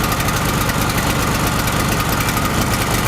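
A gas-powered generator engine runs steadily nearby, a loud continuous rumbling drone with no pauses or talk.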